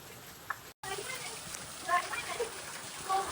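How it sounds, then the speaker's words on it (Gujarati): Heavy rain pours down in a continuous hiss with scattered drips and patters, while a voice speaks faintly underneath. "ફૂલ વરસાદ ચાલુ હોય"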